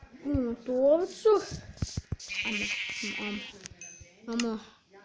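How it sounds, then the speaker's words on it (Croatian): Minecraft sheep bleating several times in short wavering calls, interleaved with a person talking and game sounds, fairly quiet overall. "Imamo tu ovcu."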